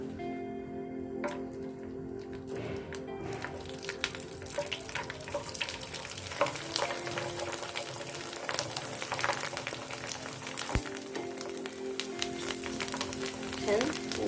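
Sabudana papad bubbles and crackles softly as it deep-fries in hot oil, a steady low sizzle running beneath someone speaking throughout.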